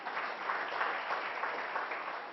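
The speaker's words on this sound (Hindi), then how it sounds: "जरा इसके नाम की ताली बजा दो भाई एक बार।" An audience claps together in a steady, dense patter of applause at moderate volume. No one speaks over it.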